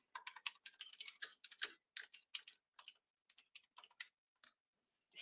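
Rapid keystrokes tapped on a computer keyboard while typing text into a code editor, a close, crisp run of clicks that thins into sparser taps toward the end, with no voices.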